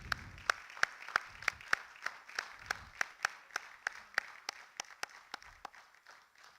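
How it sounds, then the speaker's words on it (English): At a literary festival event, a small audience applauds a young author while one person claps in a slow, even rhythm, each crisp clap distinct, fairly quiet and close, with soft scattered clapping underneath. "Can we have a big round of applause for the little man?"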